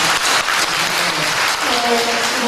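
Church congregation applauding together in a worship hall, a dense, steady wash of clapping held at full strength throughout, with faint voices mixed underneath.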